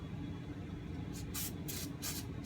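Compressed air blown through a 1968 Sears Clinton 3.5hp outboard carburetor, three short sharp hissing blasts in quick succession, close and loud above a low background rumble.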